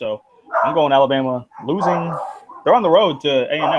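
Dogs bark and yowl in loud, uneven bursts mixed with someone talking nearby, their voices rising and falling across a few seconds.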